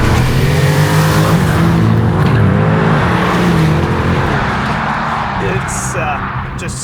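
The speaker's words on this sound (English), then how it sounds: "Launch control." A 2025 Porsche Panamera GTS launches hard under launch control, its engine note sweeping up loudly through rising revs with quick shift breaks before settling into a fading roar, while a voice talks over it.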